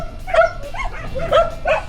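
A dog gives a few short, whiny barks and yelps in quick succession, fairly close.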